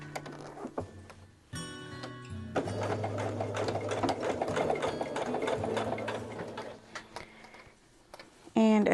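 A sewing machine stitches through the layered batting, backing and fabric of a quilt-as-you-go block. Its rapid, steady mechanical ticking runs for several seconds with brief pauses, close by, with a voice talking over it.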